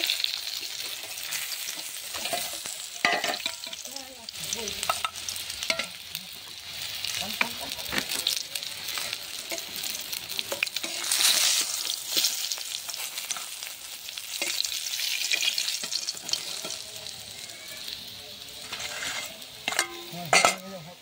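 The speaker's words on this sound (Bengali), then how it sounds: "মাছগুলোকে উল্টে নিয়েছি। মাছগুলো আমার ভাজা হয়ে গেছে" Fish fry in hot oil in a pan with a steady, close sizzle, broken by scraping and clinks as the pieces are turned over.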